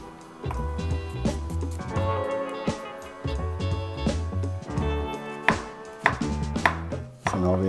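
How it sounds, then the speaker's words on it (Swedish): Shallots and garlic being finely chopped with a knife on a board, quick rhythmic thuds coming in uneven bursts, close and crisp, with no one talking. "Så jag finhackar schalottenlök."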